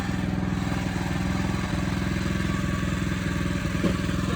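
A Hecht 2650 motorized dumper runs in reverse gear, its small engine chugging loud and close in a steady rapid throb, with a brief clank near the end.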